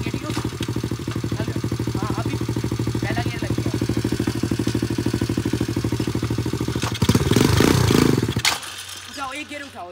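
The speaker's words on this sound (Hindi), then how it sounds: "मस्त एकदम डर्ट बाइक घुमा रहे थे हमारी गाड़ी के सामने" A dirt bike engine idles with a steady, rapid throbbing close by, then revs up briefly with a rougher surge before cutting off; people talk over it.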